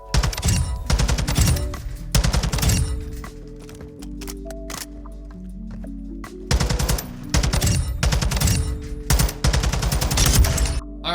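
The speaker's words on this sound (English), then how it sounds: "This is the TAC 56 in the firing range." A TAC 56 rifle fires in a video game firing range, with loud rapid bursts of automatic gunfire separated by short pauses and reload clicks.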